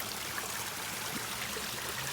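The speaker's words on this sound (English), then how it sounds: "And this is where the water feature starts." A garden water feature in a mountain garden, recirculated by two pumps, trickles and babbles steadily at a low level, a continuous gentle stream with no talk.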